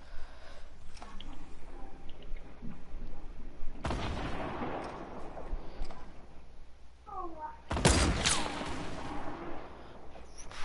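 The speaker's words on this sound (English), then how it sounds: "There's people shooting." Gunfire in a Fortnite solo match, two sharp bursts of shots with crackling echoes, separated by quieter game ambience, fairly loud and close.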